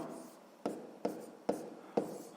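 Handwriting a maths solution on paper: close, faint scratching strokes with four sharper pen touches at a regular pace.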